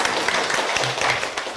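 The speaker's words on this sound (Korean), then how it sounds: "큰 박수로 맞아주십시오" A conference audience at an international meeting on Japanese forced-labour issues breaks into brief, dense applause to welcome visiting speakers, a steady wash of clapping filling the short moment.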